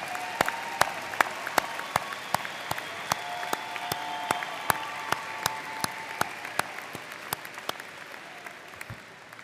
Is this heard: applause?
yes